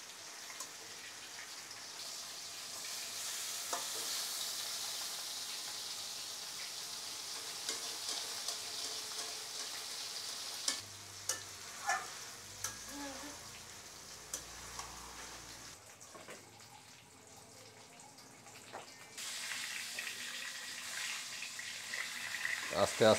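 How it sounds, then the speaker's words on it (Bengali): Large belly pieces of chital fish fry in a kadai, giving a steady, close sizzle with occasional clinks and scraping of stirring. "চিতল মাছ ভাজা হচ্ছে।"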